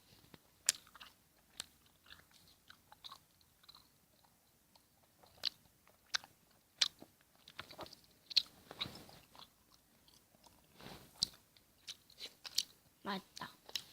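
Crunchy food is bitten and chewed close to the microphone in an eating ASMR session, producing irregular soft crunches and chewing clicks that become denser and more frequent in the second half.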